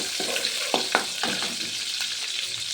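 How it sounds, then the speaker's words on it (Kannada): Garlic tempering sizzles in a little hot oil with a steady crackling hiss. Scattered soft pops and stirring scrapes punctuate it up close, and nobody speaks. "ಬೆಳ್ಳುಳ್ಳಿ ಮತ್ತು ಒಂದು ಸ್ವಲ್ಪ ಎಣ್ಣೆ ಇದನ್ನು ಮಾಡಿ ಇಟ್ಕೊಂಡ್ರಿ ಬೆಳ್ಳುಳ್ಳಿ ಒಗ್ಗರಣೆ"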